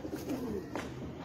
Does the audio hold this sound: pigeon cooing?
yes